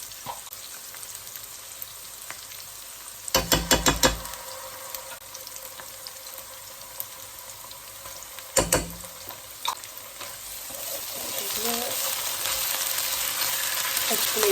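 Ginger paste and minced garlic frying in a pan for a spicy beef curry, a faint steady sizzle with two sharp bursts of spitting and clatter, swelling louder toward the end.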